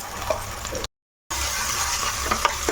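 Ginger paste being stirred in a hot frying pan, a steady close sizzle with soft scraping strokes, a brief dropout partway, then stirring and frying resume with a few light clinks.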